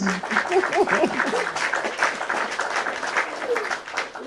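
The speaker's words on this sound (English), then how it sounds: "Let's just clap a little." A live audience claps briefly after a spoken prayer, a steady patter of hands with some crowd noise and a voice speaking through it.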